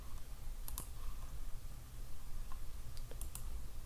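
Computer mouse clicks while working in Trimble TBC software: a few sharp, quiet clicks, some in quick pairs, over a low steady room hum, with no voices.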